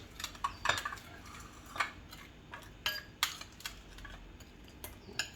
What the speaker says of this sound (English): give this all a good mix